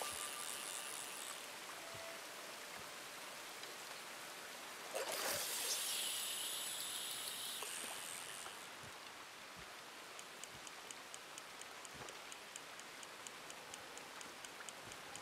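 Steady rain falling at night in Red Dead Redemption 2 while a character fishes, an even hissing patter with a brief louder surge of splashing partway through, no voices.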